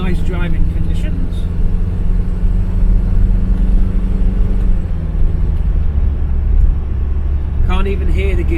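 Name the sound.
Ford Cortina MK3 with Pinto engine and automatic gearbox driving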